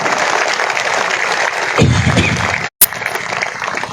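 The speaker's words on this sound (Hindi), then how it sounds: "जोरदार तालियां बजा के इस बात के लिए धन्यवाद दीजिए।" A crowd at a political road-groundbreaking event in Rewa claps steadily, with a swell of louder clapping near the middle and a brief cut to silence before it resumes.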